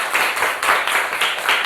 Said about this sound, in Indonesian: Tepuk tangan buat si Pani.